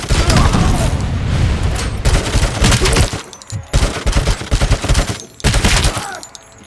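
Heavy gunfire in the shooter game RoboCop: Rogue City, with loud dense bursts of automatic fire and booming shots. The fire runs almost continuously, breaks off briefly, then comes back in choppy volleys with short gaps.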